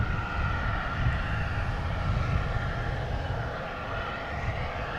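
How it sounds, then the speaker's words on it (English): A plane makes a low takeoff at Boston Logan airport, its jet engines a loud, steady, close roar that holds throughout with no voices. "Low takeoff."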